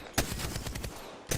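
Gunfire in Apex Legends: a few sharp broadband shots, one near the start and another near the end, with a busy rumble of game sound between them.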